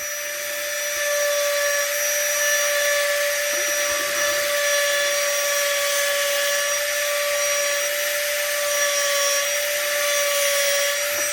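Small carbide burr in a rotary tool grinding steadily, a high whining tone with a continuous cutting hiss that holds for about ten seconds, close and fairly loud with no talk.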